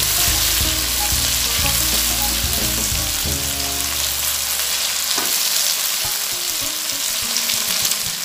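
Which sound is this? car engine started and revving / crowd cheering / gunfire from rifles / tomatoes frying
tomatoes frying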